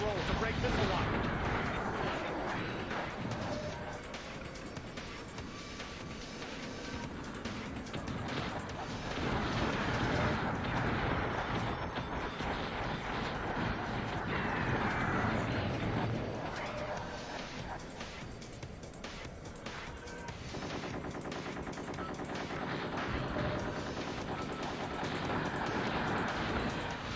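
A battle against enemy tanks in the Xbox mech game Gun Metal, with constant booming weapon fire and explosions under busy game sounds, and voices talking throughout.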